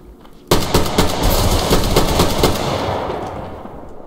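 Rapid automatic AK rifle fire in the shooter game Survarium, a loud burst of closely spaced shots starting abruptly and rattling for about two seconds before fading into a ringing tail.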